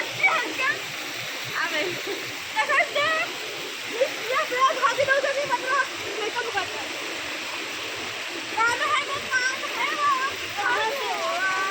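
Putudi waterfall runs full after rain, a steady close roar of rushing, splashing water that fills the whole stretch, with people talking over it at times.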